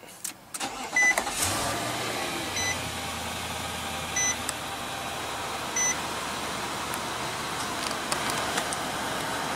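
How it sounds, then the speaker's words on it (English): A 2015 Infiniti QX80 starts by push button with a foot on the brake. A sharp click comes first, then a steady engine idle hums underneath with a few short chimes. "Just put your foot on the brake, hit the button to start."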